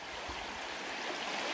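A creek flows steadily outdoors, a continuous broadband rush of running water with a soft low gurgle beneath, fairly close and without voices.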